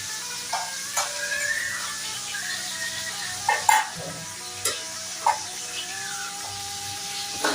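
Fish fries in a pan at home, a soft continuous sizzle with a handful of sharp spits and pops scattered through it, fairly close and without talk.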